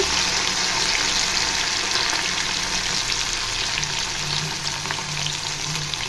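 Okra sizzling steadily in hot oil over a low flame, a dense, even crackling hiss that stays loud and unbroken throughout, with no voices.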